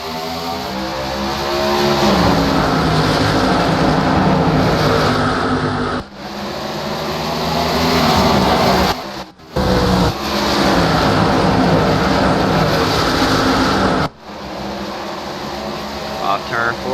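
NASCAR race cars at Bristol take the green flag together, a loud, dense engine roar that builds and holds, broken by a few brief dips, under the steady blur of the field.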